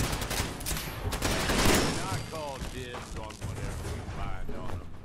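Rapid bursts of gunfire from Fallout 4's Nuka World add-on crackle through a shootout, with shots overlapping game effects and mechanical clatter, and a voice talking over the action.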